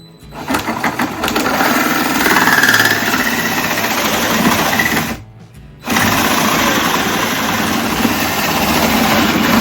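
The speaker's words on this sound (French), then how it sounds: "Et du coup, ça guide la mèche pour percer droit" A power drill guided by a jig bores a 15-degree hole in wood for a saloon-style bar stool, a loud continuous whirring drone that stops briefly midway and then resumes.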